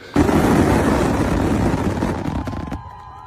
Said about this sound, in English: The fireworks that I experienced yesterday, I have never seen fireworks like it.